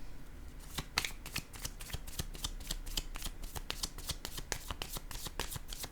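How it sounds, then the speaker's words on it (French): Close, steady shuffling of tarot cards, a rapid run of dry papery flicks and riffles repeating evenly for several seconds with no voice. "Je vais déposer une autre carte."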